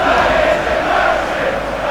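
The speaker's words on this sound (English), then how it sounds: "the crowd is telling us that this is a disgrace" A large crowd roars and jeers in a video game battle, a dense continuous wall of many voices held loud and close throughout.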